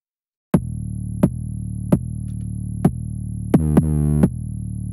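An 808 bass with a mid-range layer added through R bass plays deep, booming notes in a sparse rhythm, each with a sharp attack and long sustained low tone, one sliding pitch near the end, loud and alone.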